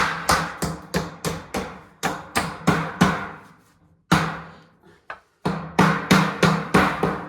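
A hammer drives nails during a stone house renovation in a mountain village, striking in quick sharp bursts of evenly spaced blows with short pauses between runs, loud and close.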